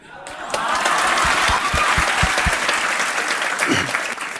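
Sustained applause from an audience at an award ceremony for selected students. Many hands clap loudly and steadily for several seconds after a swell at the start, with a few chuckles mixed in.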